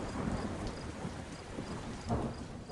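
Distant thunderstorm with steady rain, a continuous hiss of rainfall under low rumbling thunder that swells briefly near the end, heard alone.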